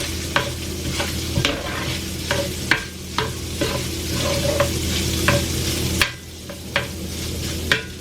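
Sausage fries in an oiled pan with a steady close sizzle, interrupted by repeated sharp scraping and tapping as the food is stirred and turned, no voices.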